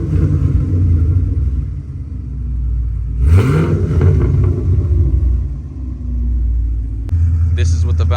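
2016+ Cadillac CTS-V with an EOS axle-back exhaust and closed valves, a deep rumbling idle that swells into a rev and settles back, with talk over it.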